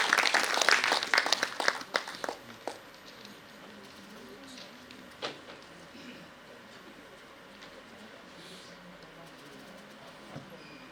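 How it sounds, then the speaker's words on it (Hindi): Audience applause at a stage event, a burst of clapping from a crowd that is loud at first, then thins out and fades within about three seconds, leaving quiet room noise with a few stray claps. "प्लीज एक बार तालियां बजा दीजिए।"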